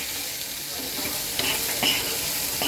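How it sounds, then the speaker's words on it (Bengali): Spices and chopped onion stir-fried on low heat for a prawn curry, a constant close sizzle broken by a few short spatula scrapes and clinks, with no voices. "এখন আমি লো টেম্পারেচারে রেখে মশলাগুলো খুব সুন্দর মতন কষাবো"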